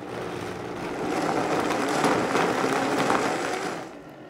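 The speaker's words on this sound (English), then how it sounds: "Now I'm working quickly here and I have a high speed blender." High-speed blender whirring loudly and steadily as it purees chilies into a smooth paste for mole, the motor pitch rising slightly midway, with no talking.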